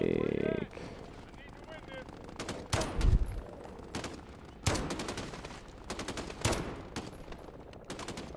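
Gunfire in the video game Modern Warfare: repeated sharp bursts of shots in rapid clusters, some loud and near, with a player talking over the action.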